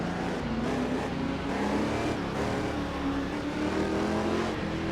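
A Chaparral 2D race car running behind a Jaguar E-Type gives a continuous, loud engine drone with shifting pitch as it accelerates and lifts, heard close up without speech.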